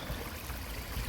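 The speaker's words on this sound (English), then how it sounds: "This is a water wheel invented by Arabs." Water rushes and trickles steadily around an old Arab-style water wheel on the island in Tomar, Portugal, a continuous close wash of flowing water with no voices.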